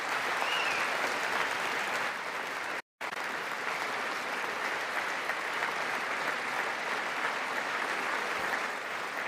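A large audience applauds at a State of the Union address, with dense, steady clapping that holds at an even loudness throughout and breaks off for a moment partway through.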